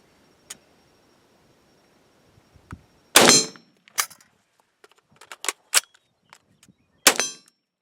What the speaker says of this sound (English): quickly reload from an empty mag with the bolt locked open